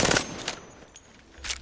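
R-99 submachine gun fired at the firing range in Apex Legends, three short rapid bursts of gunfire separated by brief pauses, close and punchy.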